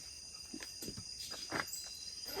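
Crickets chirp at night around a forest campsite as a faint, steady high-pitched drone, with a few soft rustles and footstep-like taps close by.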